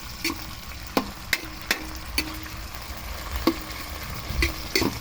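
Bottle gourd and sardines sizzle and fry in a pan as a utensil repeatedly taps and scrapes it, a steady crackle under roughly ten sharp, evenly spaced clacks.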